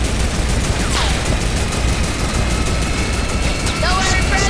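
A turret gun fires in Fortnite with dense, rapid automatic bursts over a constant loud game din, voices talking over the action.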